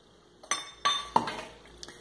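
A utensil clinks against a bowl while melted butter and margarine are mixed for garlic bread: three or four light, close metallic taps at irregular intervals over a quiet background.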